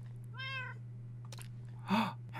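A Minecraft cat gives one clear, mid-loud meow from the game, followed by a few short game sound effects. A steady low hum runs under it all and no one talks.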